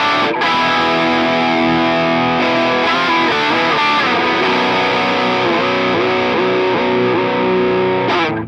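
Fender Player Plus Meteora electric guitar played loud through heavy distortion, sustained chords and riffs ringing continuously for about eight seconds with no talking.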